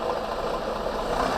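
A FedEx truck's engine rumbles steadily as the vehicle moves forward on a snowy road, a continuous mid-to-low drone at fairly close range with no speech over it.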